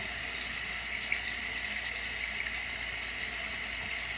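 Water runs from a tap into a small container for a turmeric skincare mix, a steady soft splashing stream held at an even level throughout, with no talk.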